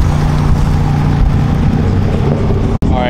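A Mazda RX-7 passing at a car meet, its engine a steady loud rumble with revving texture, followed by a brief dropout near the end.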